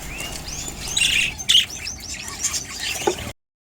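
Budgerigar chicks in a nest box give high, rapid chirps and squeaky calls in overlapping bursts, close and fairly loud, before the sound cuts out abruptly.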